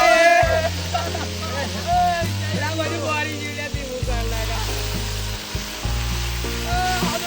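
Garlic paste and asafoetida sizzling in hot oil in a frying pan, a steady close hiss running under people talking loudly nearby.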